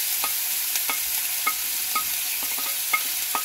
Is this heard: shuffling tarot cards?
no